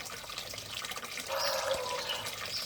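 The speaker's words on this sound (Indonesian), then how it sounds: "kalau di tempat saya ini air langsung saya sediakan dengan air mengalir ya teman-teman" Water runs steadily from a channel fed by a well into a drinking area for Muscovy ducks. It makes a faint continuous trickle that grows fuller and louder partway through.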